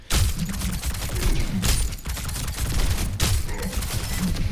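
Freja, a hero in a shooter game, fires rapid bursts of shots, loud crackling volleys repeating several times over a steady background of game noise.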